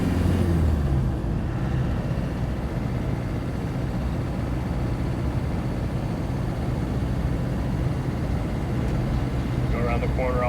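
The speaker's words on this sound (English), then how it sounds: "We'll accelerate a bit and then we'll slide into fourth." A 1995 Land Rover Defender 130 drives with a steady, loud engine drone and road rumble throughout, accelerating without a clear break for the shift into fourth, with a voice briefly heard near the end.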